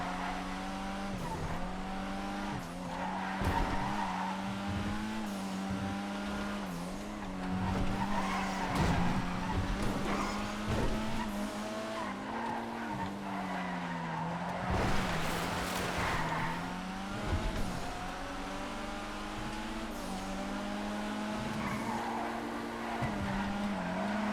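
Racing cars from GTA FiveM, including a Growler and a Futo, roar steadily with engine drone, tire squeal and skids throughout, loud and continuous with gear shifts and revving.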